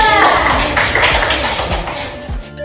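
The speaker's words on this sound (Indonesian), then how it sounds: "Tepuk tangannya dulu ke Bapak" Classroom students applaud their teacher with dense, steady clapping close by, mixed with some voices, and it tapers off at the end.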